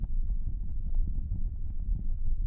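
A horse galloping, its hooves drumming in a fast, steady, muffled rhythm at close range, low and continuous with no other sounds over it.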